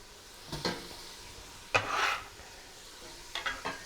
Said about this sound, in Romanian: Le amestec și le lăsăm bine puțin, câteva minute aici, la năbușit.